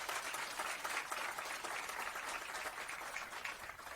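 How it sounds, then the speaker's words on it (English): Soft, steady applause from an audience at an outdoor ribbon cutting for the Juanita J. Craft Civil Rights House, a continuous wash of distant clapping with no voices. "a round of applause for all of our friends who are here today on this special day and this momentous occasion"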